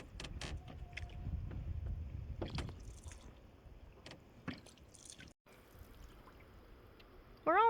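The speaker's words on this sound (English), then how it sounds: "we'll go for a little bit more of a paddle around the lake" Water splashes and drips from canoe paddle strokes, with a few soft knocks against the hull, outdoors on a calm, mirror-like lake.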